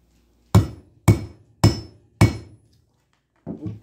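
Four sharp, evenly spaced hammer blows strike a double ferrule on an anvil while an otter snare is built, loud and close, followed after a pause by a softer fifth knock.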